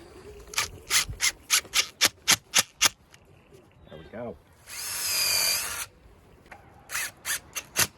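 A screw is driven into a pre-drilled board on a hardwood raised garden bed with a power drill, a brief whirring burst of about a second among rhythmic scraping and rubbing strokes, with someone speaking briefly.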